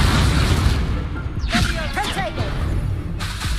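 Incendio fire spell cast in Hogwarts Legacy: a burst of whooshing flame with a low boom, swirling and crackling over about two seconds amid ongoing game sound.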